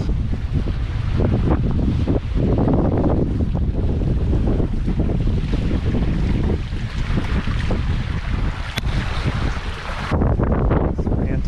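Strong wind roars across the microphone aboard a sailboat in a 15-knot breeze, a constant loud rush with water and wave wash underneath throughout.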